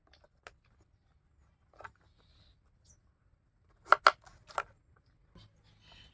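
Raw mango sliced vertically into thin pieces with a knife: a few sparse, crisp cuts early on, then a quick cluster of three sharp chops near the end, close and quiet.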